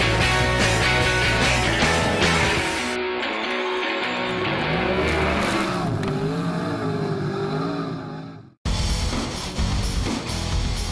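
Dirt modified race cars roaring around a dirt track in Marshalltown, Iowa, engines loud and close with shifting revs as cars pass, ending in a sudden cut and then renewed engine noise.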